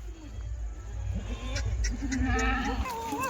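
Kathiawadi goats from Bhavnagar bleating close by, several wavering calls overlapping amid low rumbling background noise.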